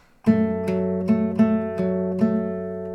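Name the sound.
acoustic guitar fingerpicking pattern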